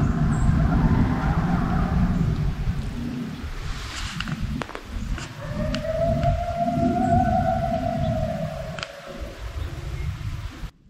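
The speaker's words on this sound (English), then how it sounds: "there was a whole party of coyotes signaling to each other" Coyotes howling and signaling to one another at dusk at an old encampment site, a rising wavering tone carrying from a distance over steady outdoor wind and rustle, with no talk.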